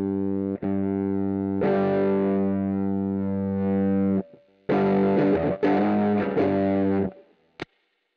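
Electric guitar through a DIY overdrive pedal clipping with a germanium diode one way and an LED plus resistor the other, giving sustained distorted chords that ring for several seconds, a short gap, then more strummed distorted chords and a brief final hit.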